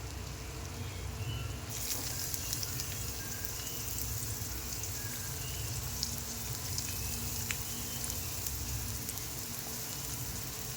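Onion sizzles and fries in hot oil with a curry leaf tempering, a steady dense crackle close by with small pops throughout, no voices.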